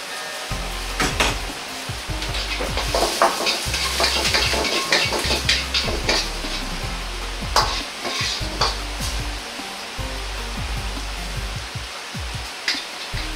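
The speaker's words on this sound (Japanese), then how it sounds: "ニンニク、唐辛子を炒めます。" Garlic and chili frying in about a tablespoon of olive oil, giving a loud, continuous sizzle with scraping and stirring in the pan throughout, without talk.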